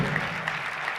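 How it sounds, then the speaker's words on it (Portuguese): Audience applause after a business master-class interview, a dense steady wash of clapping filling the whole short moment at moderate level. "Uma salva de palmas"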